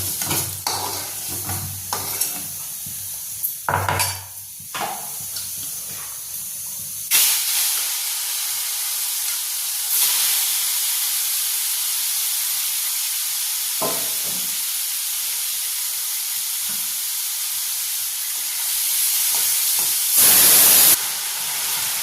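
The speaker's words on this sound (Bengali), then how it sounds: "এই আলুর তেলেই কিন্তু আমি চিংড়ি মাছ ভেজে নেব।" Prawns fry in a pan of oil left over from frying potatoes. A loud, steady sizzle and hiss builds and holds throughout, with a few clinks and stirring scrapes near the start.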